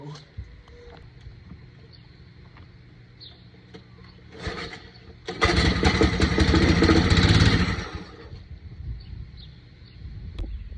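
A Tecumseh string trimmer engine that sat outside for years sputters to life briefly, running loud for a few seconds before dying back out, with quieter fiddling and background noise around it.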